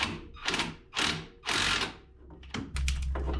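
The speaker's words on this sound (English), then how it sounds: "I'm going to rattle them up with my impact and check them by hand" An impact wrench rattles the strut bolts on a Mercedes W124 front suspension, four or five short, loud buzzing bursts in quick succession, close up with no talking.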